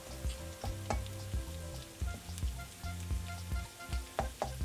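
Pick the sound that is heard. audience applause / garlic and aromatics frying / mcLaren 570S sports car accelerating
garlic and aromatics frying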